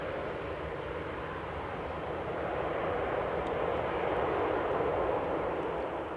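A Transavia Boeing 737-800 arriving at Schiphol's Polderbaan produces a steady, moderately distant jet roar that swells slightly midway, with no voices present.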